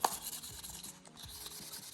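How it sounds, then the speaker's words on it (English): Light wet sanding of a scratched DVD with sandpaper, soft rhythmic back-and-forth strokes at close range, fairly quiet with a faint slosh of water. "We're gonna wet sand it very lightly, back and forth."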